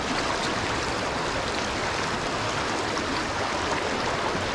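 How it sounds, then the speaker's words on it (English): Fast-flowing water of the Little Juniata river rushes steadily and loudly in a continuous broadband roar, close by, with no talk over it. "Look how fast this water is,"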